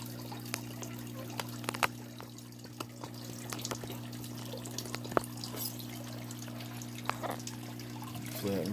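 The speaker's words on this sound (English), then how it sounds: "I can hear air bubbles getting sucked in through the surface skimmer" Air bubbles are sucked in through an aquarium surface skimmer, making steady watery gurgling with scattered small pops and drips over a constant low tank hum.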